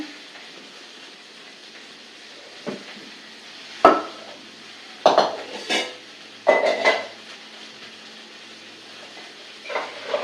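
Broad beans are tipped into a cooking pot already holding pumpkin for a mixed vegetable kootu, giving a few scattered clattering knocks and thumps at close range with quiet gaps between them.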